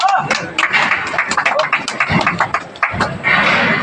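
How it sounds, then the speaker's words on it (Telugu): A crowd claps loudly and continuously at a temple opening celebration in a village, dense rapid clapping mixed with voices, close and busy throughout. "చప్పట్లు కొట్టాలి గట్టిగా"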